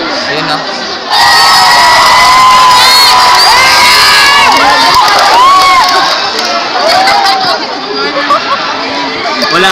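A noisy crowd in a GMA television studio cheers and shouts loudly and continuously, with high-pitched screams and excited voices swelling after a brief quieter start, close and dense throughout.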